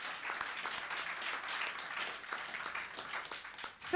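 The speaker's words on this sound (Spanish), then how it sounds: "¡Aplaudan al maravilloso Jesucristo!" A church congregation applauds steadily through the whole stretch, a dense wash of many hands clapping at moderate volume, with a few faint voices in the crowd.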